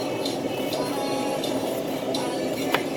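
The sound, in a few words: knife cutting an onion on a board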